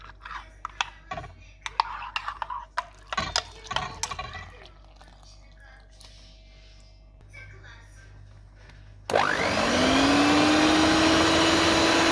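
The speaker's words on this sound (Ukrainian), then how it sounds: "будемо збивати міксером" Clattering and tapping noises give way to a loud, steady electric motor whir as a hand mixer switches on and keeps running, beating yeast dough with an egg.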